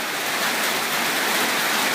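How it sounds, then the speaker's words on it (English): Heavy rain in Udon Thani in April: a dense, steady roar of downpour, loud and unbroken throughout with no pauses. "the rain's already started."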